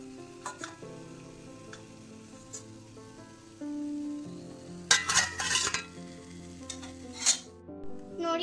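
Vada batter sliding into hot oil for Tirupati temple-style vada, a soft steady sizzle with occasional sharp bubbling bursts and light metal clinks of a spoon, close and fairly quiet.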